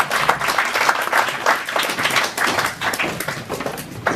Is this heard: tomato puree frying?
no